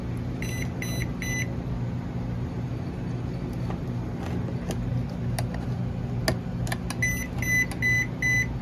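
Short electronic beeps from a PetSafe YardMax invisible dog fence transmitter, alerting to a broken boundary wire, repeat in quick clusters over a steady low hum, pausing mid-way and then resuming, fairly faint and close.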